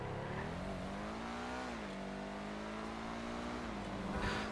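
The Benefactor SM722 sports car in GTA drives through traffic with a steady engine drone that rises and falls in pitch as it shifts and accelerates, ending in a short rush of tire or wind noise.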